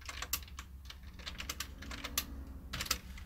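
Fingers tap quickly on a computer keyboard in short irregular bursts of clicks, close and fairly quiet, with no speech.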